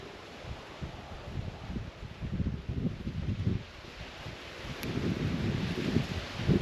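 A windstorm blows outdoors, rumbling and buffeting against the microphone in uneven gusts that swell louder toward the end, with no voices.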